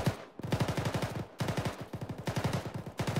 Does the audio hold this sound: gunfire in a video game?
yes